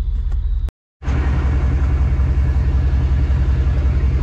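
Ford truck engine idling close by after a transmission install, a loud steady low rumble broken by a brief gap, then running on evenly.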